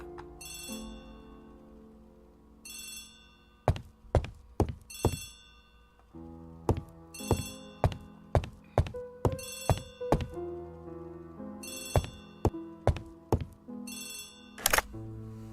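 An old-fashioned telephone bell rings in repeated bursts, loud and close, with thumping knocks and music-like tones between the rings.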